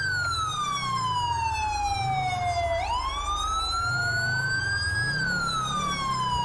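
An emergency siren from a vehicle in a motorcade in GTA 5 wails steadily with smooth rising and falling sweeps, loud and close over a low engine drone, with no talking.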